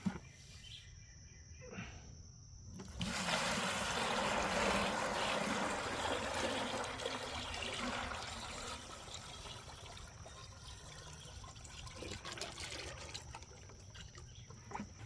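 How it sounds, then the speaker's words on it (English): Wet wild clay slurry poured into an old cotton pillowcase, a sustained soft gushing and trickling pour that swells after a quiet start, then gradually thins toward the end with faint background noise. "And we just pour the clay into here."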